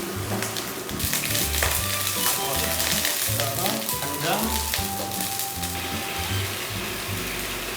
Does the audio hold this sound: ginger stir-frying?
yes